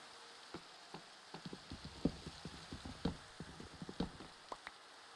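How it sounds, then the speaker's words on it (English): Rain falls in the Minecraft video game, a soft steady patter with scattered sharper drops and taps, quiet and with no talking. "It just starts raining out of nowhere."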